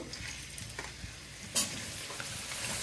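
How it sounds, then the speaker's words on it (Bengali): Potatoes fry in hot mustard oil with a dense, steady crackling sizzle, punctuated by one sharp clatter partway through, close and alone without speech. "তেল গরম হয়ে গেছে। এখন আমি আলু ফ্রাই করে নেব।"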